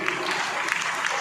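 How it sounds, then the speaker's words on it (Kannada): Applause from an audience at a stamp release during a swamiji's 55th birthday celebration, a dense, close burst of many hands clapping, with a voice speaking over it. "ಅಭಿಮಾನದ ಚಪ್ಪಾಳೆ ಪೂಜೆಗೆ"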